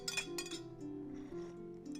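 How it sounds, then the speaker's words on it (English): Metal knife clinking against a pot while stirring broth, a few bright close taps at the start followed by a lingering ringing tone that slowly fades. "I am stirring my broth with a knife"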